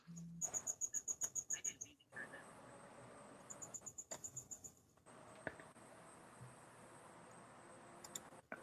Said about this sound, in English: Those crickets are wild.